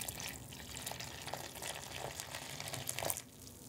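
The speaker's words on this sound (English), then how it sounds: "just taking my mixture and pouring it into my cornstarch" Colored water mixture being poured into cornstarch to make oobleck, a continuous soft splashing and trickling pour that holds steady and close for several seconds.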